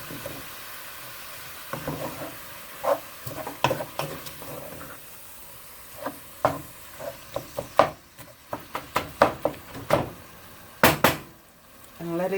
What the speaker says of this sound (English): We're going to stay here and mix this until the meat gets brown